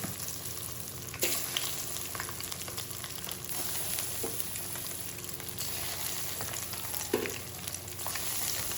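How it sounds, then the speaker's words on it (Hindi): Chicken nuggets fry in hot ghee over a low flame with a steady close crackling sizzle, broken by a few sharper pops and clinks as pieces are moved. "तो अब हम इन्हें फ्राई करते हैं।"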